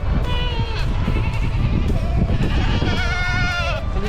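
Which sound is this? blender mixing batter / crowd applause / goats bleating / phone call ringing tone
goats bleating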